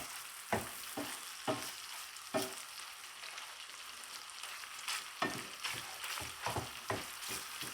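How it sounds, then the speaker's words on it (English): Peeled, deveined shrimp and garlic sizzle steadily in a hot pan, a close, continuous frying hiss broken by sharp clinks of stirring every second or so, with no talking. "now you can see the garlic starting to toast"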